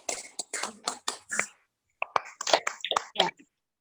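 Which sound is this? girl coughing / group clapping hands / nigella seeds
group clapping hands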